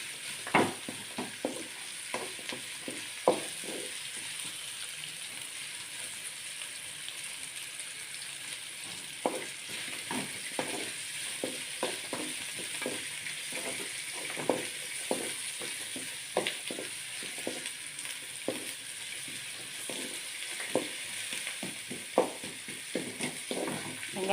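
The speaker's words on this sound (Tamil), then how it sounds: "வெங்காயம் நல்லா வதக்கணும்." Onions sautéing in a pan for chicken noodles, a steady sizzle under repeated irregular scrapes and taps of a spatula stirring, close and fairly even throughout with no talking.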